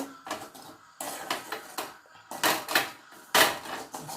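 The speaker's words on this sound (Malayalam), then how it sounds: "തേങ്ങയും പഴമായിട്ട് മിക്സ് ചെയ്യാം നല്ല രീതിയിലൊന്ന് മിക്സ് ചെയ്തെടുക്കാം" Ripe banana, grated coconut and Amrutham powder get stirred in a bowl, giving irregular bursts of scraping and clinking from the spoon against the bowl, close and fairly loud.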